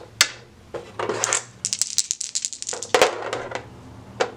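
Several dice clatter and tumble across a table during an Age of Sigmar tabletop game, a sharp initial toss followed by a run of rapid bright clicks and a second rattling roll, close and clear without talking.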